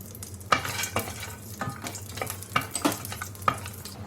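Cashew nuts frying in melted ghee for rava ladoo, a soft continuous sizzle with sharp spoon scrapes and taps against the pan every second or so, close up and without speech.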